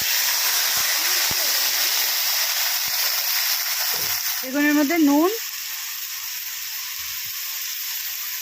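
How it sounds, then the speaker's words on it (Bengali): Eggplant frying in oil in a wok gives a steady, dense sizzle that runs the whole time, and a brief voice speaks midway over it. "এবার বেগুনটা ভেজে নেব।"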